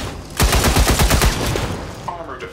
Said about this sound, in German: dann kann ich jetzt locker einmal schießen